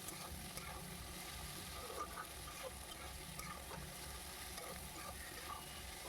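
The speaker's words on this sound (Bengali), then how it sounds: "ভালো করে নেড়ে চেড়ে যখন পেঁয়াজটা বাদামি কালার চলে আসবে তখনই ভাববেন পেঁয়াজ ভাজা হয়ে গেছে" Onions fry and are stirred in a pan with a little salt, giving a faint, continuous sizzle with soft scraping from the stirring. No one speaks.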